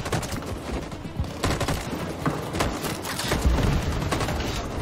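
Sustained gunfire rattles through a firefight in Detroit: Become Human, a dense continuous volley of loud shots and impacts without pause.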